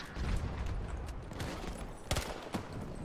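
Gunfire in Battlefield 2042: a fairly quiet, distant battle rumble with scattered crackling shots, then two sharper, louder reports close together near the end.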